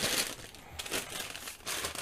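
A paper bread bag crinkles and rustles in hand for about two seconds, with close, steady crackling and brief louder bursts.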